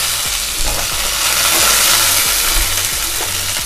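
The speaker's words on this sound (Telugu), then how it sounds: "ఇవి కొంచెం వేగుతున్నాయి కదా ఫ్రెండ్స్" Vegetables and green chillies sizzle steadily in hot oil in a pan while being stirred, a continuous close crackling hiss with soft repeated scraping of the spatula, no talking.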